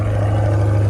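A Chevrolet Corvette C8 hard top convertible engine runs after a remote start, a steady loud low idle drone without pauses.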